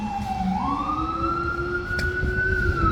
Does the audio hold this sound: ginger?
no